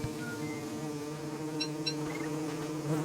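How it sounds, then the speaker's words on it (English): Bees swarm and buzz around a beehive in the video game Don't Starve, a steady, dense droning hum holding throughout, with a few faint chirpy game tones layered on top. "you gotta kind of deal with the bees, obviously, because they're gonna be pretty relentless in chasing you"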